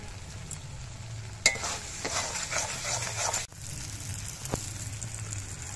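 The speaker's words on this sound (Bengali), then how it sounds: "এবার মশলাগুলোকে কষিয়ে নেব যতক্ষণ না পর্যন্ত মশলা থেকে তেল ছাড়ে।" Spice paste for aloo dum sizzles and scrapes as it is stir-fried in hot oil in a pan, with a steady close frying hiss, a few sharp spatula knocks and a low background hum, and no voices.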